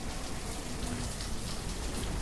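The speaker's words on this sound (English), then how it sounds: "It's raining." Steady rain falls in the village-building game Banished, an even, dense hiss of drops on surfaces that holds constant throughout with no voices over it.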